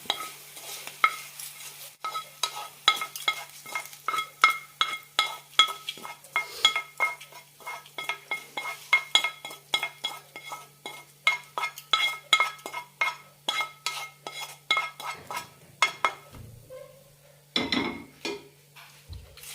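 A spoon stirs curd semiya in a metal pan, scraping and clinking in a steady repeated rhythm with a faint low hum beneath, close and clear, ending with a few softer knocks.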